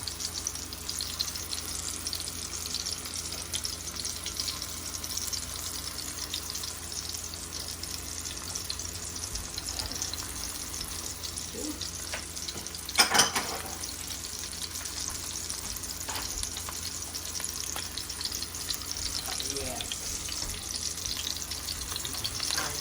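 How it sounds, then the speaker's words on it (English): Chicken for a deluxe chicken burger fries in a pan with a steady, even sizzle running throughout, broken once by a brief louder clatter near the middle; no one talks. "meanwhile, that's going to fry"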